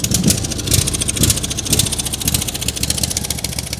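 An AF flail mower's engine runs at a steady idle after starting, a close, even mechanical chug with rapid regular pulsing and no speech.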